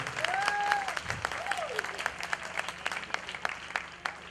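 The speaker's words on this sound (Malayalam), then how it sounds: "നമ്മളെ ഈ സ്വർഗീയ അനുഭൂതിയിലേക്ക് നയിച്ച എല്ലാ കലാകാരന്മാർക്കും നമുക്ക് നല്ലൊരു കയ്യടി കൊടുക്കാം" Audience applause for the performers at a church parish event, a sustained burst of clapping from a gathered crowd that thins into scattered claps, with a voice briefly audible early on.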